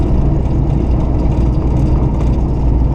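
1969 Buick Special Deluxe engine running at about 900 RPM while the car coasts, a steady loud low rumble from inside with road noise and no talking.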